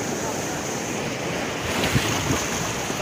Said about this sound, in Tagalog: Tama, alon, alon.